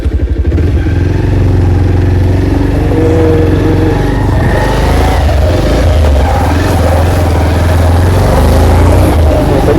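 A motorcycle engine runs steadily up close, a low throbbing rumble that holds throughout with slight shifts in pitch.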